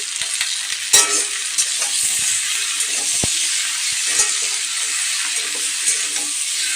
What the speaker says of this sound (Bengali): চলো একটু ভাজা ভাজা করবো